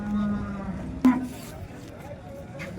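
A cow at a cattle market gives a single short moo amid a busy crowd, with someone talking nearby and a sharp knock partway through.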